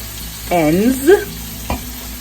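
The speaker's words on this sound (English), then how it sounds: "And we're going to fry these" Pork ends sizzling in a hot pan, a steady close crackling hiss, with a brief voiced exclamation partway through and a short knock near the end.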